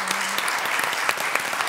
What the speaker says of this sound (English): Now let's give our candidates a big round of applause.